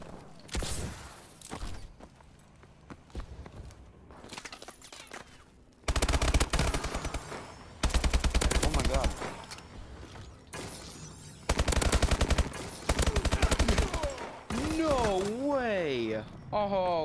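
Rapid bursts of video game gunfire from a gun game match, loud automatic fire broken into several clusters between quieter stretches, with players talking over parts of it.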